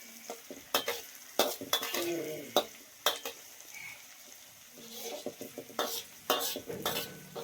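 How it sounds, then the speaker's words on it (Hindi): Repeated sharp clinks and scrapes of a utensil stirring chopped bottle gourd being tempered in a pan, with a soft sizzle underneath, irregular and close by. "अंजू बना रही है अभी सब्जी, लौकी काट रही थी, उसे छौंक रही है।"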